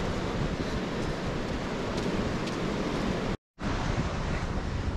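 Strong wind buffets the microphone on a jagged rocky beach at Long Beach, BC, a loud continuous roar mixed with surf that cuts out for a moment before resuming.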